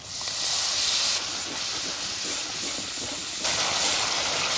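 Spice paste of cumin paste, turmeric and chili powder with salt sizzles while frying in a pan for a Bengali fish curry, a steady loud hiss throughout that swells briefly at the start and near the end.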